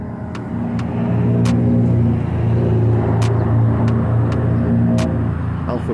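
A Barrera V6 car drives past, heard from inside a Saab 9-3 Turbo: a loud engine rumble swells and fades over several seconds, with sharp ticks and clicks scattered throughout.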